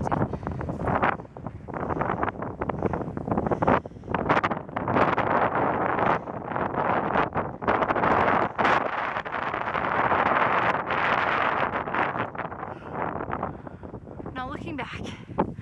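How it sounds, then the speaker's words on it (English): Strong gusting wind roars across an open microphone at the base of a mountain near Grand Teton, loud and continuous with buffeting bursts. Someone talks over it throughout. "I know it's super windy right now and I'm trying to block the wind all I can"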